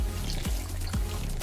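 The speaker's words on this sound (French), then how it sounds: "Je vais rajouter l'eau dans la marmite." Water pours steadily into a cooking pot of tomato sauce, a continuous close splashing rush with brief gurgling surges, heard alone without talk.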